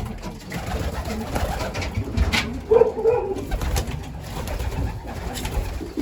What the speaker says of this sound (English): Oh, I just fed the birds.